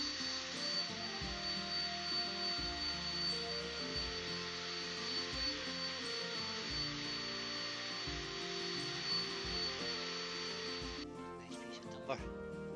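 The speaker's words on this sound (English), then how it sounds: "just use our drill, and we can power sand" A steady, loud power-tool whir of a drill power-sanding a natural-edge wooden bowl runs almost without a break, dropping away near the end to quieter noise with a faint knock.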